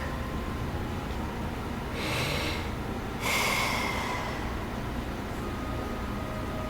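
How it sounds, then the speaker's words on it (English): A sleeping character in Ys X breathes steadily, with two soft breaths rising above a constant background hiss, the second slightly louder and sharper. "The sound of Karja's steady breathing fills the air."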